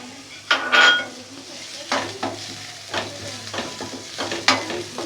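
Finely chopped small onions fry in two tablespoons of oil in a pan, giving a soft steady sizzle broken by close scrapes and clinks of a spoon stirring against the metal every second or so.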